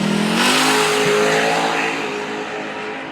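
A Dodge Hellcat muscle car launches down a drag strip at a Las Vegas muscle car event, its engine roaring loud and close in a sustained high-revving blast that fades slightly as it pulls away.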